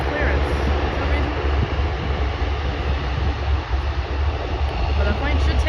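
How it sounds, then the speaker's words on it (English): At Vancouver International Airport, an airplane's engines give a loud, steady, broadband roar that fills the whole stretch, with people talking under the noise. "But the plane should take off"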